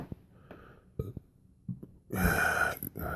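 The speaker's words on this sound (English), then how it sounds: "Gotta get this belch out, this soda messing with me." A loud, drawn-out belch after drinking soda bursts out after a few breathy sounds and small mouth noises, close to the listener.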